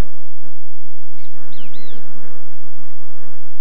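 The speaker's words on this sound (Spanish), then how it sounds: "Las avispas hembra de arena cavan túneles de 12 centímetros de profundidad donde dejan un solo huevo." Female sand wasps buzz close by near nest holes dug in riverbank sand, a few short rising and falling whines over a steady low hum of the surroundings.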